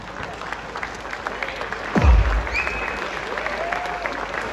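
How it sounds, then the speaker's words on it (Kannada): Standing ovation from the audience at an award ceremony, a steady wash of clapping with crowd murmur and a loud low thump partway through. "ದಯಮಾಡಿ ಎಲ್ಲರೂ ಎದ್ದು ನಿಂತು ಒಂದು ಚಪ್ಪಾಳೆ ಕೊಡಬಹುದಾ?"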